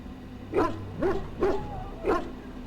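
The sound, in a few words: Mabari war dog barking in video game Dragon Age: Origins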